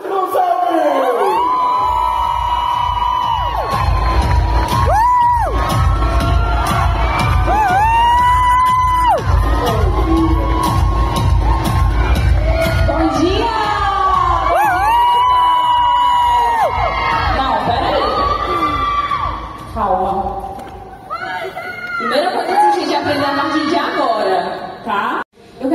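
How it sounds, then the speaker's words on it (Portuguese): A large live audience at Kiwify Festival 2024, a digital business event, shouts, whoops and cheers loudly and continuously to welcome a speaker onstage, with piercing individual yells rising over the roaring crowd. "eu quero que vocês recebam ela com um grito"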